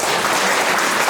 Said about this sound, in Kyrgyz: төрагаңар Нурлан Нурдиновичке бир катуураак кол чаап коелучу.